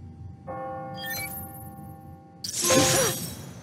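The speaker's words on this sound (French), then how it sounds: "Oh, les cloches de l'église." A church bell in the Spider-Man: Miles Morales video game rings the hour as a single sustained metallic tone, followed by a short, noisy crashing burst.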